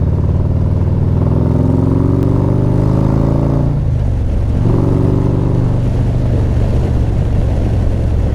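A 2024 Harley-Davidson Street Glide with a stage two kit droning steadily while riding, pitch rising and falling as it shifts through gears, loud and close with wind rumble.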